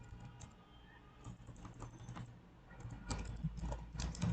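Someone types a CSS comment on a computer keyboard: quiet, irregular key clicks in short bursts, faint and close, growing a little busier toward the end, with no talking.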